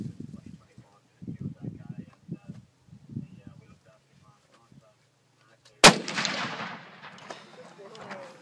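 A single loud, sharp gunshot from a Zastava M70 rifle chambered in .458 Win Mag firing reloaded ammunition, heard outdoors. The blast comes after several seconds of murmured talk and rings out in a long, decaying echo.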